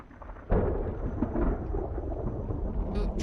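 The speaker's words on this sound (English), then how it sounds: "Ooh, dramatic thunder." Thunder in the Project Zomboid video game: a sudden loud crack followed by a long deep rumble that rolls on and fades slowly, with faint rain under it.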